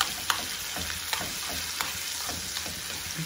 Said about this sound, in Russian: И все это вместе пережариваем.